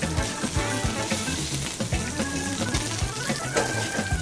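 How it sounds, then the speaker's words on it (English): A veal stock sauce with red wine and tomato simmers and reduces in a pan, a close, busy bubbling sizzle with low thumping pops that carries on throughout without talk. "we're going to let that simmer a little bit"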